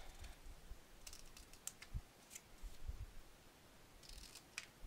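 Scissors trim the small wings off paper photo album corner pockets, giving a few faint, scattered snips and clicks over a quiet background.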